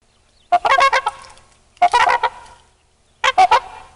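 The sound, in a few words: swans calling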